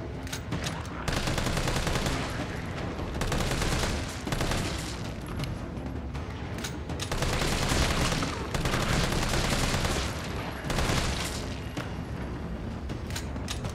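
Rapid bursts of assault rifle gunfire in the Resident Evil 3 Remake video game while shooting zombies, loud repeated volleys coming in clusters with brief gaps between them.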